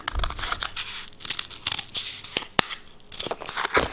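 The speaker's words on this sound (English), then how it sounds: "grab my scissors, and we're going to cut that guy out." Scissors snip through a paper mouse-ear template for a no-sew rose gold Minnie ears craft, with close, irregular cutting and crinkling sounds in quick bursts and one sharp snap near the middle.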